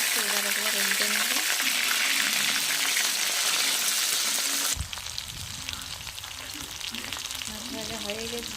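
Fish seasoned with salt and turmeric sizzles steadily in hot oil, then the frying noise shifts abruptly partway through as the pieces are turned over, with steady crackling continuing afterward and faint background tones.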